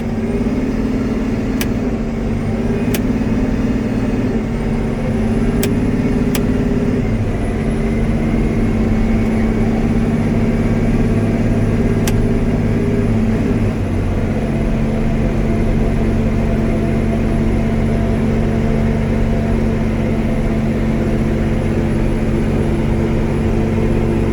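A John Deere 9620Rx tractor pulling away slowly in gear, a loud, deep, steady diesel drone that holds for the whole stretch, with a faint high whine rising early on.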